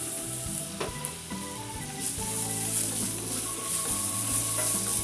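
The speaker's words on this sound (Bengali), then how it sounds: "পেঁয়াজ কুচির সাথে আমি 1 চা চামচ পরিমাণ রসুন কুচিও দিচ্ছি।" Chopped onion and garlic fry in oil with a dense, bubbling sizzle that holds steady, while utensils stir and clink against the pan.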